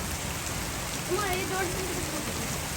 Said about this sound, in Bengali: দেখুন এত বৃষ্টি এর মধ্যে যাবো